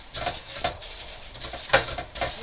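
Potatoes sizzle in a hot skillet on a barbecue grill, with a soft steady frying hiss broken by a few crisp scraping and stirring sounds up close.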